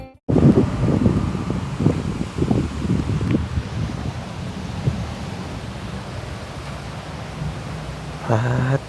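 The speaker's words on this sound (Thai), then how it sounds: "ลมพัดปลายไม้พี่น้องเอ้ย" Wind blows through treetops outdoors, a broad steady rushing with gusty rustling, loudest early on and easing to a softer whoosh, with a brief voice near the end.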